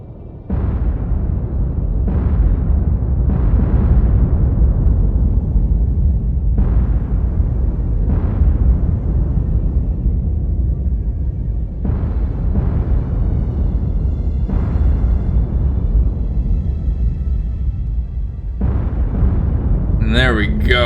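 Repeated heavy depth charge blasts from a warship in the War on the Sea naval combat game, several deep booming detonations at irregular intervals over a continuous low rumble, with speech briefly at the end.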